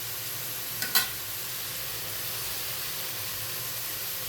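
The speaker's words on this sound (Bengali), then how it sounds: "এটাতে আমি কোনো পানি ইউজ করবো না, এটা পানি ছাড়া ভাজা ভাজা হবে।" Small shrimp fry dry in a pan without water, making a continuous bright sizzle and hiss. A brief clatter of a spoon comes near the start, and no one speaks.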